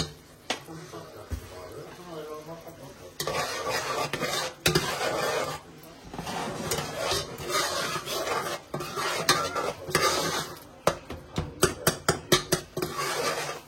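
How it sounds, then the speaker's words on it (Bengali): Spices fry in a pan of oil while a metal spoon stirs and scrapes steadily against the pan, clattering in quick bursts toward the end, with a soft sizzle underneath. "কিছু সময় মশলা কষি যাও।"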